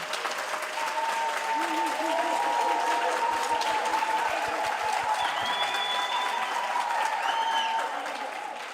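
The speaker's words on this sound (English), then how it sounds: "Can we give them a round of applause?" A memorial lecture audience claps steadily for the community of Groundville, a full, even round of applause with faint cheers and murmuring voices mixed in throughout.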